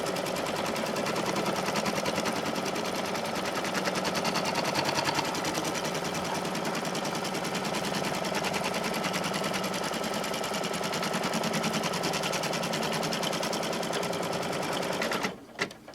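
An embroidery machine stitches around a zippered pouch held in the hoop, a rapid, steady mechanical chatter running unbroken for about fifteen seconds before stopping abruptly.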